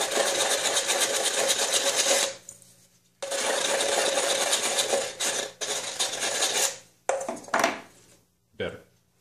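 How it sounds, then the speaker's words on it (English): Needle-nose pliers scrape and roll back the jagged cut edge inside an aluminum can while building an alcohol stove, a loud close rasping, grinding scrape in several bursts broken by short pauses. "I like to use needle-nose pliers to run around the inside and roll back that edge"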